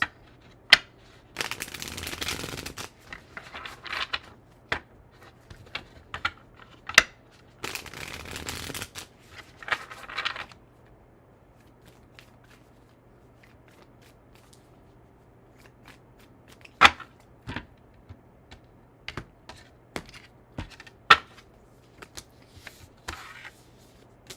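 A deck of tarot cards is shuffled by hand in repeated riffling bursts early on, followed by scattered soft snaps and taps as the cards are squared and handled, close and fairly quiet.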